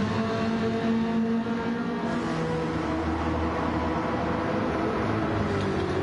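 Touring race cars, including a Viper and a Ferrari, drone around a circuit in a continuous engine roar heard from trackside, steady and fairly distant with slight rises as they pass.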